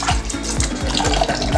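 Tap water runs loud and steady into a sink while chicken is washed for biryani, a continuous close splashing stream with no talking.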